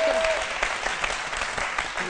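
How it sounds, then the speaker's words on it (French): A television studio audience applauds a chef on a midday talk show, brisk close clapping filling two seconds, with a host's voice faintly present under the applause. "je vais vous demander de recevoir avec des ovations bien nourries, sinon de l'applaudir et de le saluer"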